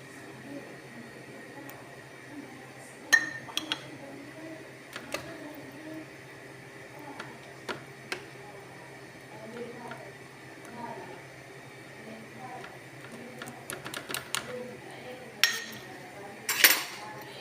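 Fork beating eggs in a bowl, with light metallic clinks and taps scattered irregularly under someone talking in a home kitchen, close and fairly quiet.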